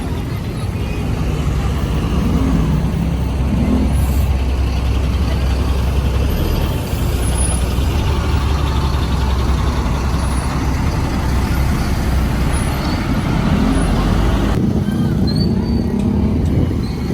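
A Jump Liner bus passes on a busy road, its engine roar heavy and continuous at close range, with traffic noise throughout and a brief hiss like an air brake near the end.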